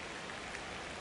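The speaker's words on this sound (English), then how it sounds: "This rain is not letting up." Steady rain falls in a baseball video game during the fifth inning, a dense, even hiss of drops that fills the moment without pause.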